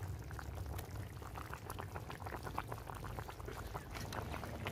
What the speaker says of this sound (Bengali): মাছ আর বেগুন দিয়ে 3-4 মিনিট ঝোলটাকে খুব ভালো করে ফুটিয়ে নেব